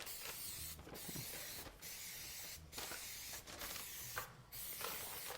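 Several short hissing bursts of an aerosol cooking spray onto a baking dish, five quick sprays spaced about a second apart, close up over a steady background hum.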